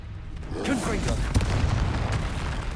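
Confringo explosive spell blasting in Hogwarts Legacy, a booming burst with a crackling tail amid a dense, busy game mix.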